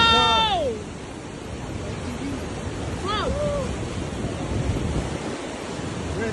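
Rushing water from a monster flash flood surges loudly as a constant broadband roar, with wind buffeting the microphone and brief whistling tones near the start and around three seconds.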